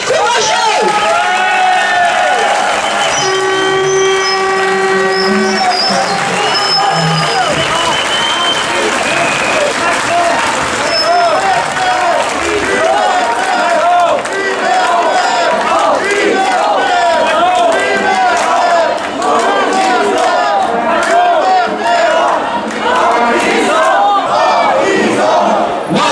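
A large crowd applauds and cheers loudly and continuously, with shouts and whoops rising over the steady clapping.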